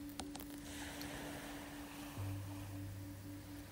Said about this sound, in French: le bruit doux des vagues qui vont et viennent